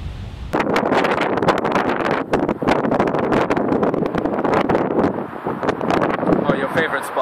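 Heavy wind buffets the microphone with loud, continuous low rumbling and gusty bursts throughout.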